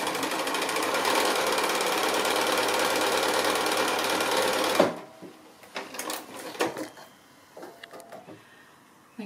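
A sewing machine stitches a long seam on a fabric flower petal made from 2 1/2-inch strips, running steadily and loud for about five seconds, then stopping, followed by quiet handling noises of the fabric.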